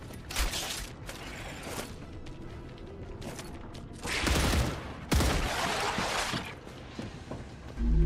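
A weapon reloading in a video game: quick mechanical clicks and ratcheting over steady in-game noise, cut through by several loud bursts of gunfire and a final close blast.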